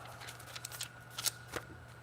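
Soft, quick scratches of handwriting with a pen come in a few short, close strokes against a quiet background hum.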